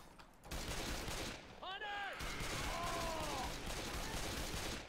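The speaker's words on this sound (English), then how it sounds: "Pipe bomb." A pipe bomb explodes in a zombies video game, heard as a loud, crackling blast and a rapid string of bursts, with brief tonal game sounds layered over the sustained rumble.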